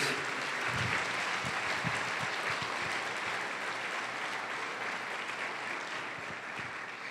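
A church congregation claps in praise during a Spanish-language service, a sustained, even wash of applause heard from a little distance that fades slightly toward the end.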